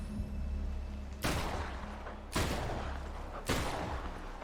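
Three loud, sharp gunshots from the video game Death Stranding, spaced about a second apart with booming tails over a low ambient hum, no talk.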